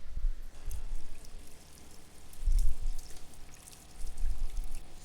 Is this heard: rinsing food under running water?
yes